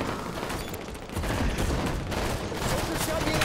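Heavy gunfire in the video game Firefight, a dense, crackling fusillade of overlapping shots and booms, loud and continuous throughout with no clear gaps.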